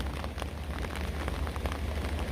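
Steady rain falls on a rainy day in the fishing village at Ocho Rios, St. Ann, Jamaica, a dense, even hiss of drops on surfaces with scattered louder patters and no voices.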